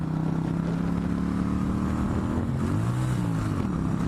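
A car engine runs steadily and loudly, its harmonic drone shifting and dipping in pitch near the end as it skips a gear, with no talking over it.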